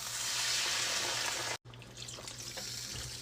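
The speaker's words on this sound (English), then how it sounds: "And then now we are going to add our water." Water pours steadily into a cooking pot that already holds chicken bouillon, a bright rushing splash that stops for a moment and then resumes slightly softer, with a faint low hum underneath.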